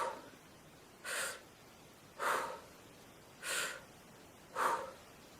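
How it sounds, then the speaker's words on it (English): Four short, quick breaths through the mouth, each a soft airy burst about a second long, evenly spaced and close up, alone in an otherwise quiet room. "The other breathing process that we do is the short breath process, in through your mouth and out your mouth quickly"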